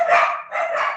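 A pet dog shut away in another room barks twice in quick succession, loud and close-sounding, with no talk over it.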